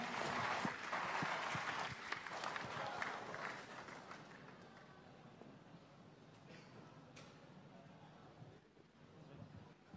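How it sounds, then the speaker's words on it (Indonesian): A crowd at a political youth event in Medan applauds, a dense wash of clapping that is strongest at first and then fades to a softer murmur, heard at a distance. "kita berikan tepuk tangannya."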